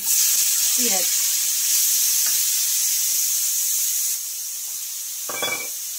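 Two large chopped onions frying in a pan for a pomfret masala curry give a steady, close hiss and sizzle with a couple of brief utensil clinks.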